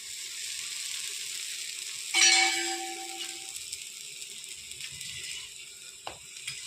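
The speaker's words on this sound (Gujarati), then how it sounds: "ફરી તળવા માટે આપણે થોડું તેલ નાખીશું।" Malpua, a sweet Indian pancake, fries in oil in a pan over low heat, giving a steady soft sizzle throughout, with a brief louder burst partway through and a small clatter near the end.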